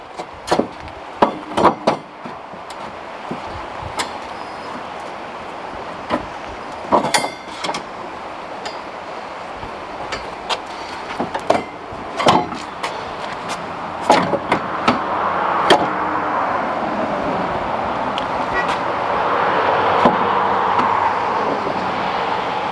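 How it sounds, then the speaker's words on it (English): Metal knocks and scraping clunks as a Blue Ox tow base plate is slid into rails on a Honda CR-V, irregular close impacts over outdoor background noise. "now we take the base plate and slide them into the rails"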